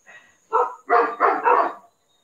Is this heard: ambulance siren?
no